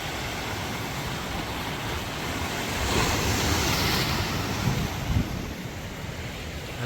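Sea waves wash in at Ayekere bay near St. Angelo fort in Kannur, a broad continuous roar of surf that swells midway as a wave breaks nearby, with some wind buffeting the microphone.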